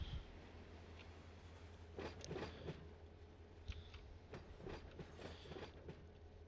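Freight cars kicked loose in the BNSF Bakersfield rail yard roll freely on their own, a faint low rumble with scattered wheel clicks and thumps.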